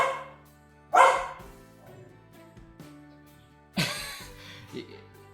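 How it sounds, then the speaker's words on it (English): A dog barks indoors, two sharp loud barks a few seconds apart with a smaller yip between them, over a faint steady hum and no talk. "My dog is barking."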